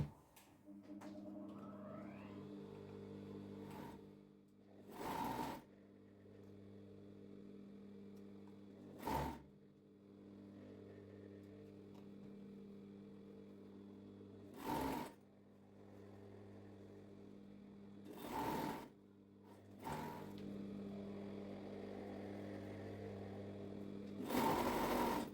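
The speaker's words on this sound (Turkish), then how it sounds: "Şimdi çekiştirerek lastiği dikeceğim." Overlock sewing machine stitching elastic onto trousers, a steady whirring hum broken by several short, louder bursts of fast stitching at regular intervals.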